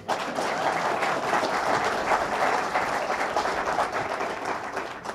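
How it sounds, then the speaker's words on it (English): Audience at a government announcement about downtown Rome projects applauding in a continuous, even wash of clapping that fades slightly at the end, with no talk over it. "You can clap for all these different projects."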